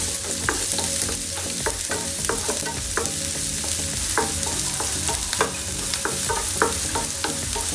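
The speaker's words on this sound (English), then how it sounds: "just add little as you like, and just saute it nicely like a golden brown" Onions sauteing in a pan for spaghetti bolognese, giving a steady loud sizzle throughout with frequent sharp scraping and clinking stirs of a utensil, close up and without voices.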